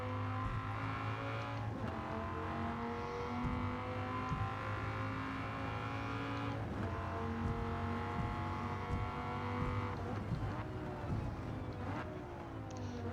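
Dodge Viper GTS race car in Gran Turismo 7 on Tokyo Expressway, its engine droning steadily with layered harmonics, briefly easing and picking back up as power returns out of a corner, loud and close throughout.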